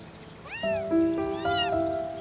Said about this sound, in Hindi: ऐ बिल्ली,